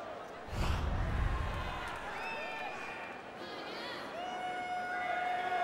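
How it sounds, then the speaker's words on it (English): Home crowd at an NHL 16 ice hockey game reacting to a disallowed goal: a burst of arena noise and thuds early, then a sustained, moderately loud crowd murmur with whistles and horn-like tones rising later. "Certainly no support for the officials from this home crowd. They're not very happy."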